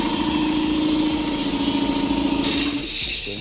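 An air compressor runs during a car oil change, giving a steady, loud droning hum with a constant mechanical tone that cuts off near the end, leaving a quieter hiss.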